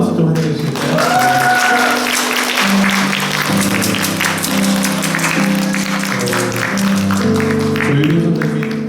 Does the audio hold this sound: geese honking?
no